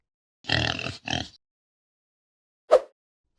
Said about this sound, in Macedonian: Свиња и нејзиното малечко прасе.